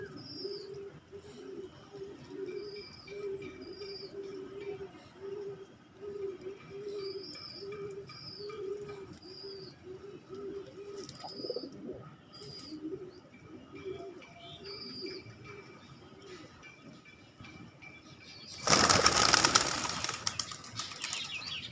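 Jalali pigeons coo in steady repeated phrases close by, with soft chirps overhead, then a loud sudden rush of wings as the flock takes off near the end.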